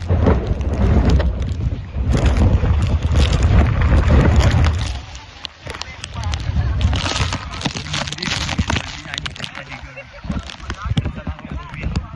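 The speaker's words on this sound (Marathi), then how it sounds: "इथे खूप धुकं आहे आणि वातावरण एकदम वारा आहे, त्यामुळे चालणंच मुश्किल आहे डायरेक्ट" Strong gusting wind buffets the microphone in thick fog and rain at the Mahadev temple on Lohgad fort, a loud, heavy roar that surges and eases in waves, with people talking beneath it.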